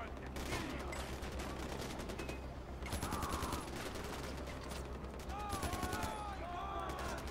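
Rapid bursts of automatic gunfire and repeated shots in the Far Cry 4 video game crackle loudly in quick volleys, with a voice talking intermittently over the shooting.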